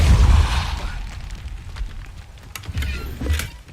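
Repulso spell cast in Hogwarts Legacy: a loud, close blast opens the moment, followed by rumbling debris and scattered clatters that fade, then a second smaller surge near the end.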